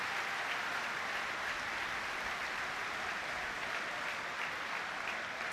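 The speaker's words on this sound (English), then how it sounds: "So Cameron Brannigan, warmly applauded by the fans around us" Football fans applauding a player at Oxford United's stadium during a Championship match against Norwich City, a steady, distant wash of crowd clapping with no speech over it.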